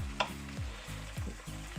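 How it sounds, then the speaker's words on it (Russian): Potato chunks and bacon fry in a pan, a soft, steady sizzle broken by regular scraping strokes as they are stirred, close and quiet with no voices. "Пока это все жарится"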